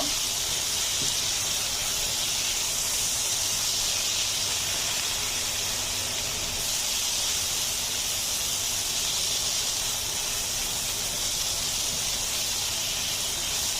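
Lentils with raw spices fry in a pan for a bottle gourd dal, giving a steady, even sizzling hiss that runs unbroken throughout with no talking.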